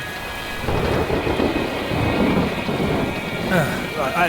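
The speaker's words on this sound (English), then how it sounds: "This storm's a bad one." Thunderstorm with heavy rain in the video game Three Fourths Home, a steady loud downpour with a deep rolling thunder rumble throughout, rising briefly near the end.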